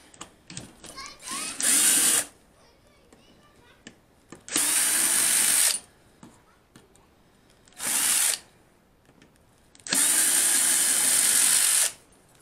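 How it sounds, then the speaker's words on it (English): A power tool drives screws out of a car boot (trunk) panel in four loud, steady whirring bursts, each lasting about one to two seconds, separated by quieter handling clatter and brief talk. "Now I can take out the screws."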